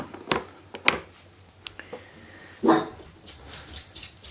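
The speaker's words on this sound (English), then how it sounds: "There's Luna barking at something random." A dog barks a few sharp times at close range, with short pauses between, then gives a longer, louder bark; quiet room background.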